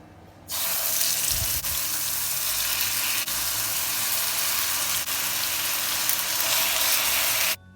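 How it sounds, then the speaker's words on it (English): Brown sugar caramelizing in a little oil in a pot, ready for browning oxtail for Jamaican stew peas, gives a steady, close, loud sizzle and hiss that starts abruptly and runs unbroken until it cuts off. "I added some brown sugar, 4 tablespoons of brown sugar to a little bit of oil, and I'm caramelizing it"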